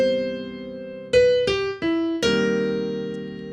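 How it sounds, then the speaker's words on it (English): Solo jazz piano plays sparse root-position chords in the left hand under a single-note melody in the right, with about four struck chords and notes ringing out and decaying into open space, close and clear with no voices. "playing jazz tunes in a solo piano way with root position chords in my left hand and single"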